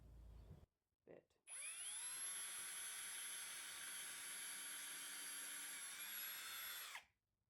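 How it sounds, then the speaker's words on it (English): A power drill bores holes through a resin leveling table build using a larger bit, a loud steady high-pitched whine running unbroken for about five and a half seconds after a brief initial burst, then cutting off. "I'm going to pre-drill and then drill it with the bigger bit."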